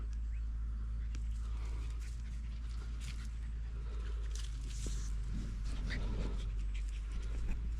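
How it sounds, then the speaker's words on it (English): Dogs pant softly near a riverbank on the Burdekin River while camping, quick breathy rhythm with a faint whimper, birdsong and a low steady hum underneath. "at least the dogs are enjoying themselves"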